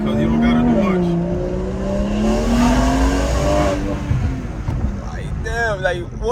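A BMW 340i with an aftermarket downpipe revs hard, its engine note climbing and falling through loud, rasping sweeps close by, with wind buffeting and someone talking over it.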